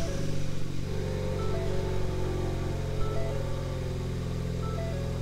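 A Ford Fiesta ST hums along on a road drive, its engine drone steady with shifting tonal whine and low rumble, close and continuous without speech.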